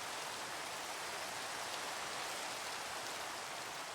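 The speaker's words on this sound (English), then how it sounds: "It is raining." Steady rain falling in the Minecraft video game, a dense, even hiss of drops filling the whole stretch with no pauses, alone without any talk.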